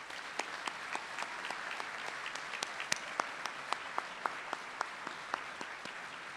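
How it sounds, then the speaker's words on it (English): Applause for faculty and staff at a college commencement, soft distant crowd clapping with sharp individual claps standing out in a loose rhythm, fairly faint overall. "And would you join me in a round of applause in acknowledging them"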